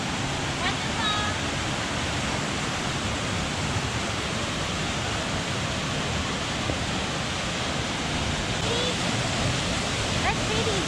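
A steady, dense roar of falling water at Spouting Rock, Colorado, rushes on without a break, broad and constant from start to finish, with no voices over it.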